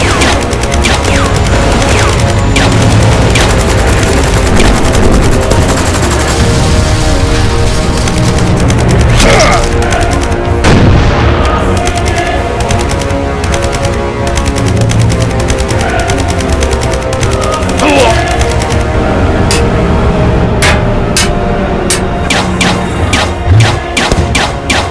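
Sustained machine gun fire in a Lego war animation, loud rapid bursts layered with heavier booms and thuds, continuous for the whole stretch with brief lulls between volleys.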